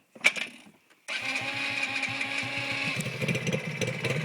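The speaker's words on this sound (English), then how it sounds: "Oh, listen to that engine." A small ATV engine starts up after a brief clatter and settles into a steady, buzzing idle with a regular chugging pulse, close by.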